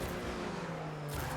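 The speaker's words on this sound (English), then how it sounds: "I heard car coming, and I bailed" A car in the video game Rocket League approaches, a short, faint engine whine and rush that swells, then cuts off abruptly near the end, with no talking.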